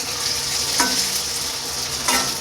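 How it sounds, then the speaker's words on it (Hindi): Soy chaap fries in a pan of hot oil, giving a dense, continuous sizzle close by, with a couple of brief stirring clatters. "इधर है चाप फ्राई हो रही है"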